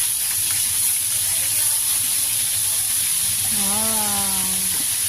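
Ginger, onion and papaya sizzle in a hot pan with a steady, loud hiss throughout, while a brief voice-like tone rises near the end.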